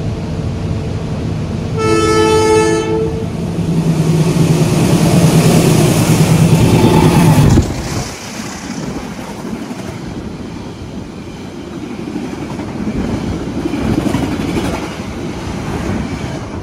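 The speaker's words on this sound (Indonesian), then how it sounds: "sudah disusul di stasiun Sumpih oleh kereta Gajah Wong yang malam ini spesial dengan lokomotif berlivery vintage" Gajah Wong passenger train hauled by a locomotive in vintage livery passes close by at a station, its horn sounding a short tonal blast early on, followed by a loud rumble of carriages that fades into steady rolling noise.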